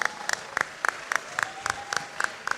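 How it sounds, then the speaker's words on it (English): Audience applause at a youth leadership assembly held by a foundation, crisp bursts of clapping rising in a steady rhythm of repeated peaks through the whole stretch, close and moderately loud. "please don't forget to celebrate them with a round of applause"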